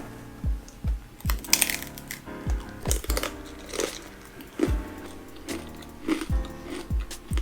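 A fan-shaped Korean bugak snack coated in seaweed flakes is bitten and chewed up close, giving a series of sharp, loud crunches in an irregular rhythm with brittle crackling between bites.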